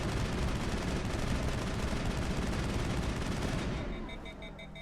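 Rapid, dense automatic gunfire from a weapon in the Mass Effect video game, loud and continuous for about four seconds before cutting off as the gun overheats, leaving a thinner, quieter tail with faint high beeps.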